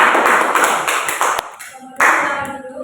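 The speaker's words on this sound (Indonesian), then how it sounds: "beri aplaus untuk kelompok 2" Classroom applause for a student group, a brief burst of many hands clapping, fading after a second and a half, then a second short round of claps over faint voices.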